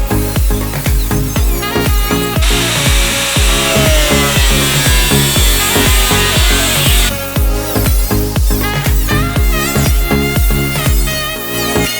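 A rapid, rhythmic cutting tool rasps through a sheet metal patch for BMW 2002tii rust floor repair, with steady strokes and a harsh high-pitched grind, loud and close.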